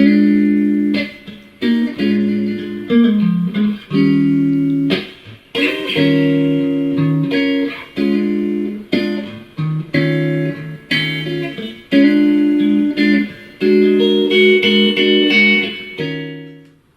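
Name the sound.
jazz blues guitar line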